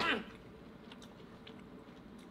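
Someone eating at home chews food quietly, with soft crunchy ticks after a brief louder burst at the start.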